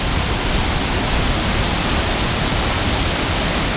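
A waterfall in the Gwaun Hepste area of waterfall country rushes in a dense, steady roar mixed with wind buffeting, a loud, unbroken wash of noise with no voices.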